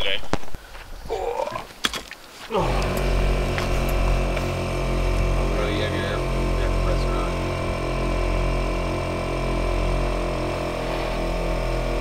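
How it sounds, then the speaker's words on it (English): A pump on a Jeep on the Rubicon Trail runs with a continuous, evenly pulsing mechanical whine and hum that starts abruptly after a few seconds of clatter and carries on steadily, close by. "I hear the pump. The pump's pumping. I hear it. It's on."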